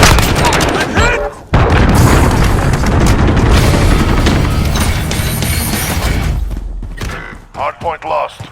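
Grenade blast and heavy gunfire in a hardpoint match of a first-person shooter on the Livestock map, loud booms and rattling shots crowding together near and far, with game voices calling out over the fighting.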